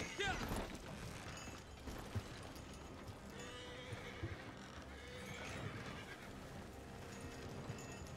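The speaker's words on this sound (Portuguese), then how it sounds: "tô passando por cima do meu cavalo" Horse neighing and clip-clopping hooves in the game Red Dead Online, a whinny near the start over continuous hoofbeats and game ambience.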